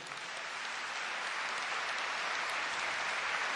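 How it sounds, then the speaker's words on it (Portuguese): A congregation at a Catholic preaching event bursts into steady, dense applause in honor of a late priest, a broad even wash of clapping that holds for the whole stretch without voices. "Pode aplaudir esse homem."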